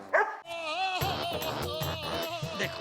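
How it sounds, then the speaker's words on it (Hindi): A dog named Sheru barks repeatedly in a lively sitcom scene, sharp near barks over music and background voices. "अभी भी भौंका ही जा रहा है"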